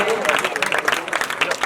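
An audience claps at a teacher's retirement programme in Ellenabad, a brief burst of dense, continuous applause heard close, with voices mixed in.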